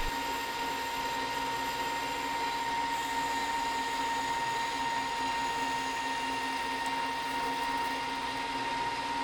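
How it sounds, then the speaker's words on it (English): A manual milling machine drills a hole and a counterbore in a steel vise speed handle, running as a steady, loud whine with a constant tonal hum throughout, no talking. "took the handle over to the manual mill and just put a hole and a counterbore in it for the bolt to sit in"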